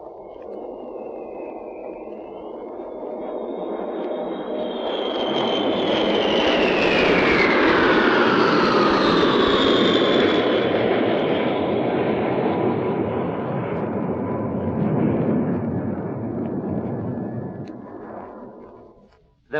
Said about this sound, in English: let's listen now to 6 giant B-52 Stratofortresses flying by in